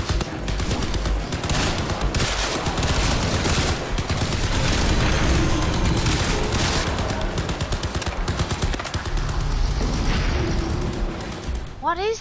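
Dense, relentless gunfire and explosive booms in Crysis 3 combat, loud and continuous for the whole stretch, with bursts overlapping into a rumbling wall of shooting.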